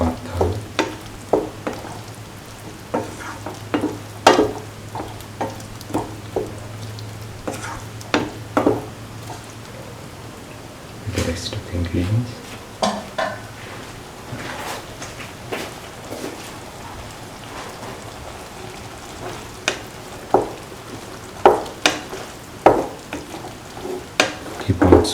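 Okra and lentil curry with ground coconut sautéing in a pan, a soft continuous sizzle broken by repeated spatula scrapes and stirring knocks at an uneven rhythm, close by.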